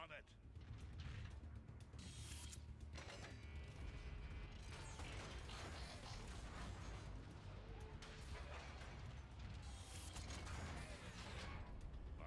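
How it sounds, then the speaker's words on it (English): A gun turret mechanism in Transformers: Fall of Cybertron, grinding and ratcheting continuously under loud game effects, with metallic creaks and clanks and distant battle noise throughout. "Optimus, you want dibs on that gun turret"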